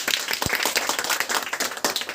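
Students clapping during a hemoglobin-testing practice class, a brief burst of quick, rhythmic hand claps from a small group, close and fairly loud.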